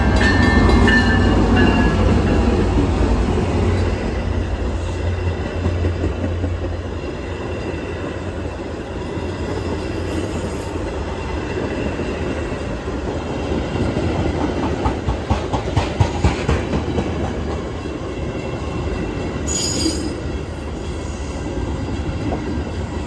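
A Metra commuter train headed by two F59PHI locomotives running as a doubleheader rolls past, loud and near, with a steady rumble, rhythmic clickety-clack of railcar wheels, and brief squeals and hissing toward the end.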